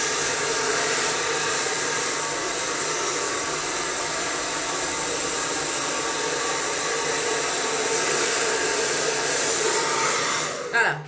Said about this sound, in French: voyez l'inclinaison de mon sèche-cheveux